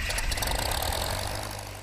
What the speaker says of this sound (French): Le moteur démarre et c'est le décollage.